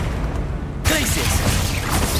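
A Glacius ice spell is cast in Hogwarts Legacy: a sudden loud burst breaks in after a quieter stretch and leads into a busy, sustained wash of crackling game combat.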